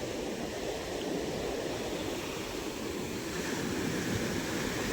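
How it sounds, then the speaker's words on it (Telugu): Sea waves wash against the coast in a steady, continuous roar of surf mixed with wind, with no talking. "సముద్రం చూశారు కదా"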